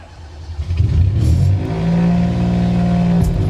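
A rally car from the Stellantis Motorsport Rally Cup starts up close by, its engine catching and then revving in loud, sustained surges.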